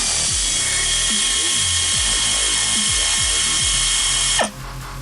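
A power tool rattles hard and steadily, loud and close, as it backs a 17mm castle nut off an upper ball joint. It cuts off abruptly near the end.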